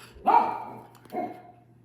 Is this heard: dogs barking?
yes